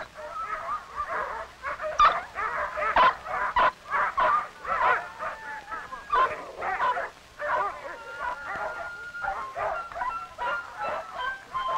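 Many sled dogs bark, yip and whine in a continuous excited clamor, overlapping calls close by with barely a pause throughout, in outport Newfoundland.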